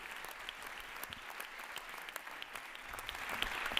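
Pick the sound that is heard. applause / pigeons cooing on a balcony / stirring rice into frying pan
applause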